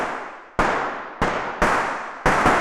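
Processed gunshot effects for John Wick action gunfire: four sharp, loud blasts at irregular spacing, each with a long, bright decaying tail that rings until the next shot cuts in.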